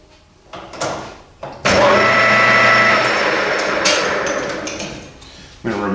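A machine cutting tube spins up to 600 RPM, starting with a sharp clack and then holding a loud, steady mechanical whir with a faint high whine. Scattered knocks come before it, and a sudden thump sounds near the end.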